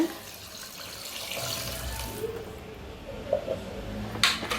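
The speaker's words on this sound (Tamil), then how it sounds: "இது தண்ணி ஊற்றிக்கலாம் 1/2 லிட்டரு." Water is poured into a cooking pot while making mutton paya, a half litre added over ginger and garlic; a steady running, splashing wash continues throughout at close range, with small clinks near the end.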